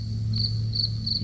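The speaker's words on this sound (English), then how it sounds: "There's a little cricket down there." A single cricket chirps in short repeated pulses, clear and fairly close, over a low steady hum.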